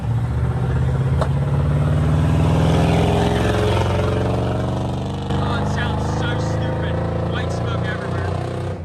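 A Chevy truck engine with bad timing, still running after a new distributor and MAP sensor, idles roughly in a loud, steady, close rumble with an uneven low throb throughout.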